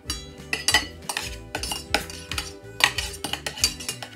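Toy pots, pans and spatulas clink and clatter steadily in close, busy bursts, with a repetitive tonal pattern running underneath.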